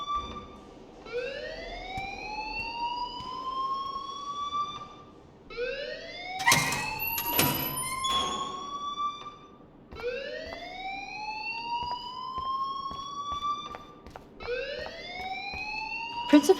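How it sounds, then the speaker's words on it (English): A fire alarm blares inside the Life Is Strange video game, a loud rising whoop-like tone that sweeps upward and repeats roughly four times in steady cycles, with a burst of sharper electronic beeps in the middle. "please turn off that alarm since that's your job"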